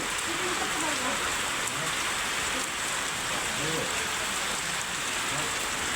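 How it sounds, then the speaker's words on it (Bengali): Heavy rain pours down steadily in Mirpur, Dhaka, a dense, unbroken roar of drops hitting surfaces close by, with no voices heard. "ঢাকা মিরপুরে অনেক বৃষ্টি হচ্ছে"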